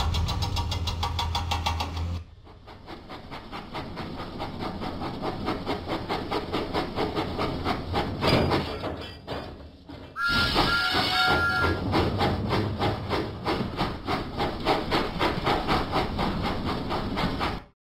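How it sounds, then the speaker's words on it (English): A steam engine in a Thomas and Friends video game huffs and puffs with rhythmic chuffs and hissing, and a short steam whistle sounds partway through, with music and effects shifting between sections. "Huffing and puffing, Thomas set out for Farmer McCall's farm"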